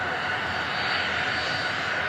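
EasyJet Airbus A320 arriving on runway 23 right at Manchester Airport, a faint steady engine hum and whine in the background, with a voice faintly present.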